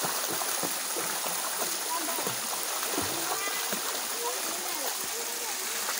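People swimming at a check dam, with continuous light splashing and flowing water that stays steady throughout, close and moderately loud, with no other sound standing out.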